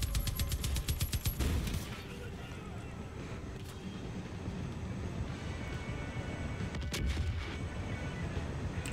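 Rapid bursts of gunfire and booming explosions from a Far Cry 5 game session, loud and dense in the first two seconds, then a steady rumbling battle din with occasional sharp blasts and faint speech.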